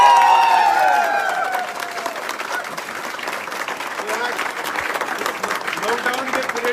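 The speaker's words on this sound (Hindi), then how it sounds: "एक बार जोरदार ताली।" Audience applause at a talk, a dense wash of clapping that stays steady and fairly loud throughout, with a voice trailing off over it at the start.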